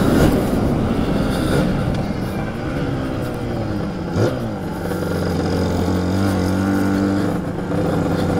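A Lambretta TargaTwin 275cc scooter rides along a road, its engine droning steadily with rising and falling revs as it shifts through gears, loud and close with wind noise.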